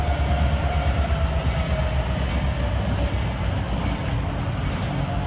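A CSX GP40-3 locomotive working the Tropicana switcher rumbles past close by, a loud, steady diesel drone with a faint high tone and rail noise throughout.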